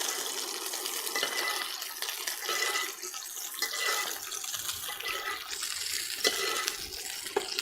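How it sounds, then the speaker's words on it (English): Garlic butter sizzling and spattering in a hot pan as a steak is basted with it, a steady hissing sizzle with small pops and crackles, continuous and fairly close throughout. "I'm going to do some more basting and get some of that garlic flavor onto the steak."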